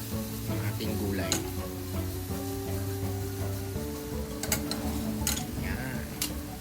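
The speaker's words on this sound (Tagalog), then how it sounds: "Tapos halo ulit hanggang sa magisa" String beans are stirred through a simmering coconut-milk Bicol Express in a pan, giving a steady close sizzle with soft scraping, occasional utensil clicks on the pot, and a low hum running underneath.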